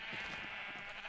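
A single sheep bleats in Minecraft, one short nasal wavering call that is close and clear, with no talk over it.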